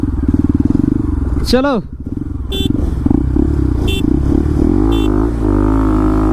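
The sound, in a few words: Bajaj NS200 motorcycle with Akrapovic exhaust revving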